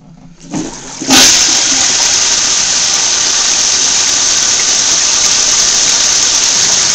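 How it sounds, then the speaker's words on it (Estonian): A toilet flushing up close, a click of the lever followed by a loud, steady rush of water that runs on without pause. "nüüd tõmbame vett"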